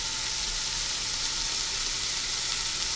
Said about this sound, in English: Onion in. Saute.